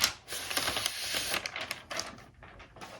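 Thin protective plastic crinkles and tears as it is peeled off a brand-new 2021 MacBook Pro, a close, dense crackling run that thins out toward the end.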